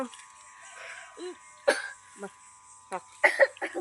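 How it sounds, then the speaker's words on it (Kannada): A few short, sharp coughs break out in quick bursts, with faint voices and murmuring in between. "ಕೆಮ್ಮು ಆಯ್ತು"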